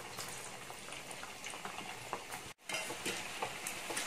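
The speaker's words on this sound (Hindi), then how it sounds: "मैं अभी सारे गोभी को इसमें डालूंगी और बिल्कुल अच्छे से फ्राई करूंगी" Cauliflower florets deep-frying in hot oil for street-style gobi manchurian give a quiet, bubbling sizzle that holds steady, broken by one brief gap.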